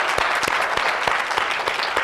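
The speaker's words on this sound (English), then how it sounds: "Let's give them a round of applause for their work." Audience applause for student associates at a public talk on solving America's housing crisis during Covid, a steady dense clapping of many hands, close and continuous with a few sharper claps standing out.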